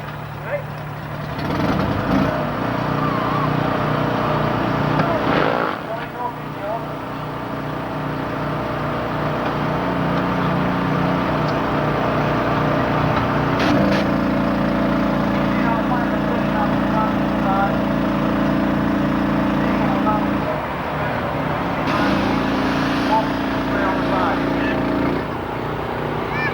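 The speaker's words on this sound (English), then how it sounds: "See now the vehicle has stopped, the driver is engaged in PTO." A North Yorkshire Fire and Rescue four-wheel-drive fire engine sits parked at a 1994 fire engine rally with its power take-off pump engaged, a steady loud engine drone with a deepening hum partway through, under background crowd noise.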